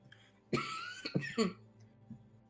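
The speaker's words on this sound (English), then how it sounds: "I have a cough I'm still trying to get rid of" A few harsh, raspy coughs in quick succession, close and fairly loud, then a brief quiet pause and a fainter sound at the end.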